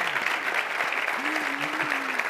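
An audience applauds after a magician's act, a steady wash of clapping with a voice speaking briefly over it partway through.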